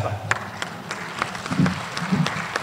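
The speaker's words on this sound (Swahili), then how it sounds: "makofi mengi" A short burst of crowd applause at a national prayer gathering in City Park, Mbeya, Tanzania, many hands clapping at once, with voices mixed in over it.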